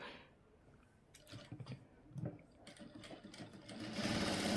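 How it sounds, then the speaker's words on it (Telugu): A sewing machine stitches the darts on the front panel of a blouse, running in short uneven bursts that build to a steady, louder whir at the end, with no voices. "ఇక్కడ నుండి స్టిచ్చింగ్ అనేది స్టార్ట్ చేద్దాం"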